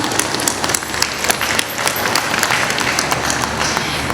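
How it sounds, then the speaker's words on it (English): A crowd at a Hmong New Year celebration claps in a dense, rapid wash of hand claps with sharp individual claps standing out, loud and close, continuing without any talk. "Let's give them a round of applause."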